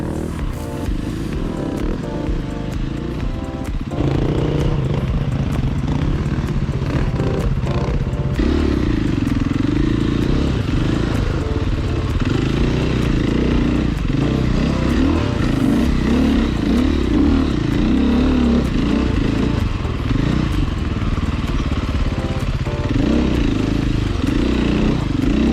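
An enduro motorcycle engine roars and revs hard, close and loud, as it climbs a rock face off-road, the throttle surging and dropping with clattering over rough ground throughout.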